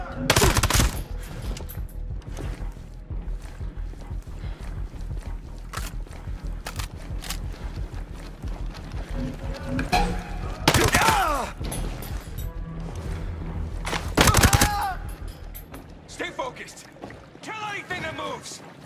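Scattered gunshots and bursts of automatic fire crack through a busy Ghost Recon: Breakpoint firefight, with two especially loud blasts near the middle and end, mixed with shouted voices and background rumble.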